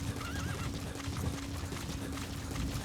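In Metal Gear Solid V: The Phantom Pain, a horse gallops with rapid clip-clopping hooves and neighs, over a busy, loud background.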